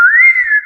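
A person whistles one clear sustained note that rises slightly and then holds steady, short and close, with no other sound around it.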